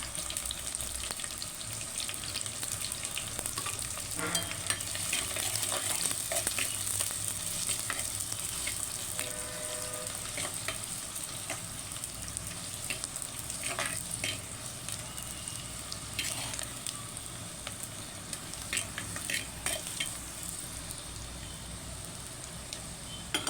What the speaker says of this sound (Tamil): வெங்காயத்தை சேர்த்து நல்லா பொன்னிறமாக வர வரைக்கும் நல்லா கிண்டி விட்ருங்க